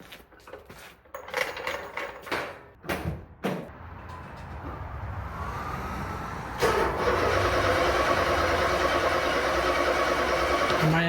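A Nissan Z car that has sat for months cranks with a few uneven starter bursts, then catches and settles into a steady idle, close and loud.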